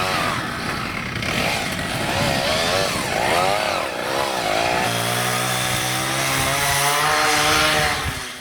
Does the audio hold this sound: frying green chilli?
no